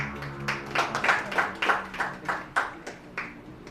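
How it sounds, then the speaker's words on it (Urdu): An audience at an Urdu poetry mushaira in Lahore claps for a poet, around ten loose, distinct bursts of clapping that thin out and fade toward the end. "آپ کی تالیوں میں"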